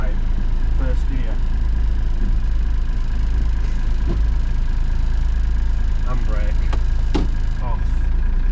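A horse box camper's engine idling and pulling away in first gear around a farm, a steady low diesel drone close by and loud, with someone talking briefly over it.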